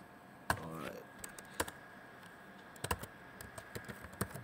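Sparse, crisp computer keyboard key presses, single taps spaced irregularly against a quiet room background, with one short tonal blip near the start.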